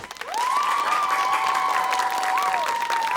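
Audience applause rings out at the close of a televised school quiz game between Doral Academy Prep and Park Vista, a steady, full wash of clapping with a tonal sweep heard across it and no talk.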